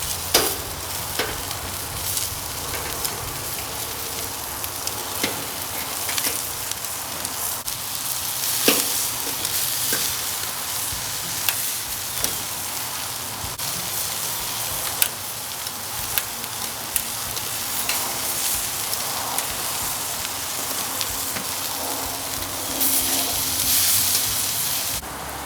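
Chicken skewers sizzle steadily on a hot grill, a constant crackling hiss with occasional sharper pops, continuing unbroken for the whole stretch.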